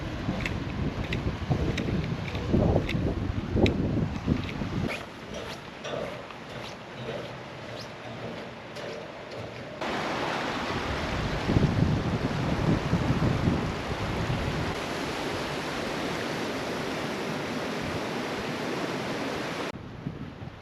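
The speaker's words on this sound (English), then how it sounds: "Spencer's Creek flowing downstream" Continuous rushing water of Spencer's Creek near Thredbo in the Australian Alps, a broad steady wash that shifts in texture partway through, with faint lower thuds early on.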